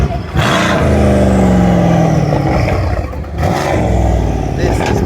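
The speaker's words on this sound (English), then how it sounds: "The C63 sounds good as well." A 2018 Mercedes-AMG C63 with a 469 bhp engine revs loudly and close by, a rising, roaring engine note that sweeps upward, dips briefly and surges again, with faint voices underneath.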